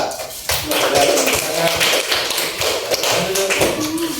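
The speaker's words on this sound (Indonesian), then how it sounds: "tepuk tangan untuk hasil diskusi dari kelompok 3" A classroom group claps for a discussion presentation, a dense patter of hand claps close by that runs for several seconds under a murmur of voices.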